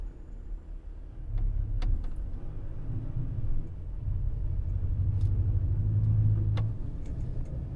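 A car drives along a road with a steady low engine rumble that swells slightly as it moves, with faint clicks and no talk over it.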